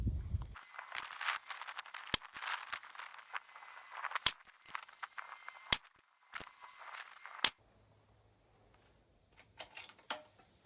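Sharp rifle shots from a gun fitted with a Magpul Pro 700L Lite long action stock crack out one by one at a range, several spaced reports with quiet outdoor background and a faint hum between.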